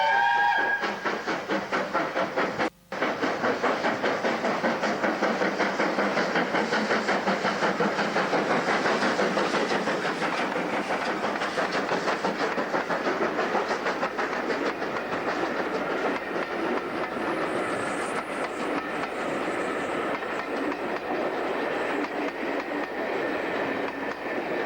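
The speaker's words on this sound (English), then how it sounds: "Britannia is running non-stop from Yarwell to Peterborough." Steam locomotive Britannia runs non-stop on the Nene Valley Railway from Yarwell to Peterborough at a spring steam gala, a loud, steady rumbling roar with rapid rhythmic clickety-clack of wheels and hissing steam throughout.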